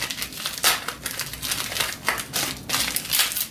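Crinkling and tearing of plastic and paper packaging as a giveaway package is opened by hand, with steady bursts of loud crumpling close by and no talking.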